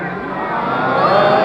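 A large crowd at a Shia religious gathering at Bara Imambara, Lucknow, raises a loud, steady roar of many voices, a dense chanting hubbub.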